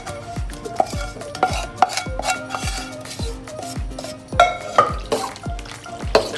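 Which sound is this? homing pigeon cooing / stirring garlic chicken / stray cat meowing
stirring garlic chicken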